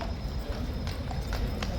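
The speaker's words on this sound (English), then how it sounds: "They're going to bring the horse in." The King's guard horse, restless and refusing to work, with hooves clip-clopping on hard ground in several sharp strikes over heavy crowd and street noise.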